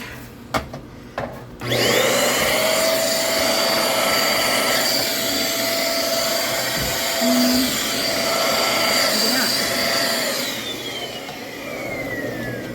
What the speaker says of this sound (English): Let me vacuum this.